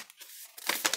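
Thin paper surprise packet crinkling and rustling as it is unwrapped by hand, close and fairly loud, with bursts of crackling that grow denser toward the end.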